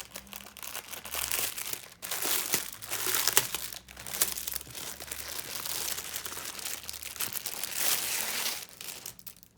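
Plastic and paper packaging of a cross-stitch kit is unwrapped up close, with loud bursts of crinkling and crumpling broken by brief pauses.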